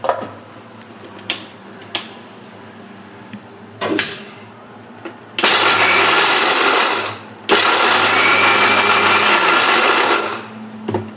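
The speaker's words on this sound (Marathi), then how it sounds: "आणि आता आपण इथे बदाम बारीक करून घेतोय." An electric mixer grinder coarsely grinds almonds in two loud, sustained bursts of about two seconds each, separated by a short pause and preceded by scattered clicks and knocks of handling.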